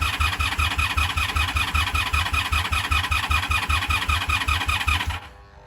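A 1983 Honda Shadow VT750C motorcycle, choke on, cranks loudly with a fast, even rhythmic chugging that never catches, then cuts off abruptly near the end.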